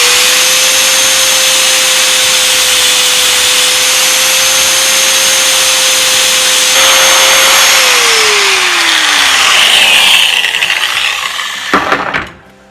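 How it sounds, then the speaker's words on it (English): An angle grinder grinds chainsaw chain links flat for a Stihl MS250 chain. It makes a loud, steady whine that runs continuously, then its pitch drops as the grinder winds down, and it ends with a few clatters. "Just take your time grinding it off till it's ground off flat."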